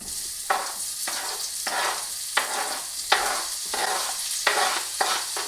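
Finely chopped onion sizzles and fries in a small pan, the steady hiss broken by repeated scraping stirs at a regular rhythm, close and moderately loud.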